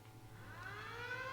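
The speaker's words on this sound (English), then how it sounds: "Because I heard the siren." A rising siren wail from the video game Disney Infinity, with several layered tones climbing steadily in pitch under a low steady hum and growing louder toward the end.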